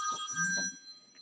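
Telephone ringing indoors, a short, bright electronic ring burst heard close and clearly, briefly overlapping a bit of low background sound, with no talking.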